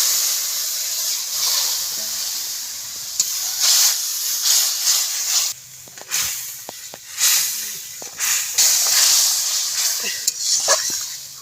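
Curry with chilli powder and water comes to the boil, giving loud, close hissing and sputtering in repeated surges with short lulls, plus a few sharp clicks of utensils.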